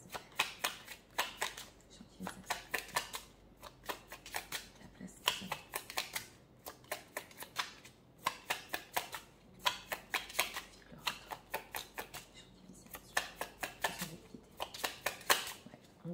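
A tarot card deck being shuffled in bursts of rapid riffling clicks and flutters, close and fairly quiet, with short pauses between runs.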